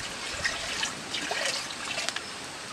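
Water poured into a cooking pot set on a fire, a continuous close splashing trickle lasting a few seconds with small bursts of spatter and no talking.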